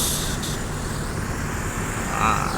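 A bus leaving on the Palembang to Padang route, with a steady rumble of the engine and traffic, a hiss like an air brake at the start and a rising whine near the end.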